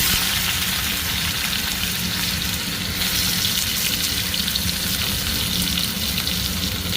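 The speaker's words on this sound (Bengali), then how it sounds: "তেল গরম হয়ে গেছে, তেলে দিয়ে দেবো জিরে, এর সাথে দিয়ে দেবো বেগুন" Cumin seeds and chopped eggplant frying in hot oil in a home kitchen, a steady loud sizzle with bright crackle running throughout, rising a little midway, with no talking.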